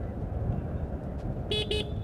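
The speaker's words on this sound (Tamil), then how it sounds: "ஸோ சிங்கிள் டோன் ஹார்ன் தான்." The single-tone horn of a TVS Orbiter electric scooter gives two short, bright toots in quick succession over a steady rumble of road and wind noise.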